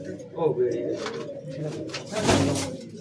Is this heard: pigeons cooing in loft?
yes